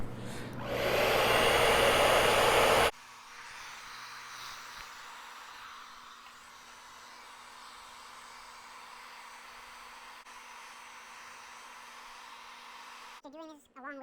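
Hairdryer blowing loudly for a few seconds while being used on a pocket knife during disassembly, then switched off, leaving a quiet room hum and a brief voice at the end.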